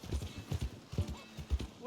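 Horse hooves clip-clop in a steady uneven rhythm in a video game, close and moderately loud, with a brief whinny in the middle.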